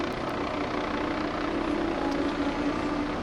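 A Guardia di Finanza AW-169 helicopter flies past at an air show, giving a steady loud rotor and turbine drone that holds evenly throughout with a faint tonal whine.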